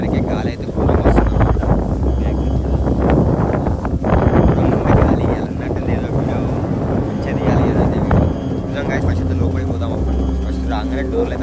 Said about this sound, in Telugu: మేము వచ్చేసరికి గాలి అయితే ఘోరంగా వస్తుంది